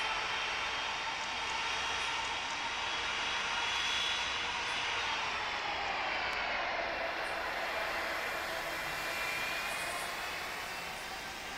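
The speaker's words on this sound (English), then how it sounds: "we get to see a heavy takeoff" A heavy aircraft in the Tower Simulator 3 game takes off, producing a steady, loud jet engine roar that swells slightly and then holds, continuous for the whole stretch, with no voices.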